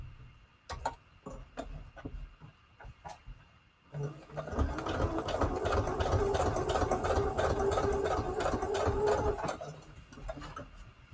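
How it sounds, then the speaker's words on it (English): A sewing machine runs a straight stitch on a junk journal tag for about five and a half seconds, a steady close motor whir with rapid needle ticking, preceded by a few sparse handling clicks and taps. "Maybe I should do a straight stitch down here so it doesn't flap around so much."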